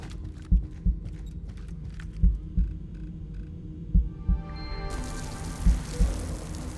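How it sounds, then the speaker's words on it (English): A steady, muffled heartbeat thumps in paired beats at an even rhythm in the Into the Radius 2 video game, over a low hum, with a brighter hiss rising toward the end and no talk. "Stop this stupid heartbeat."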